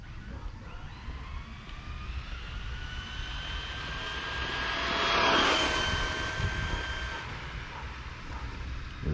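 Traxxas Raptor R 6S RC car fitted with a sledge motor and ESC, its high whine swelling as it passes close and fading away, a steady motor drone with rising tonal pitch.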